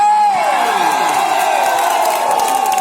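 Spectators at a grand final volleyball match in Aceh cheer and whoop together, a loud sustained crowd roar with high shouts, continuous throughout.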